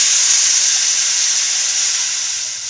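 Water poured into a hot pan of sautéed curry sets off a loud, steady sizzling hiss, close and continuous, easing slightly toward the end.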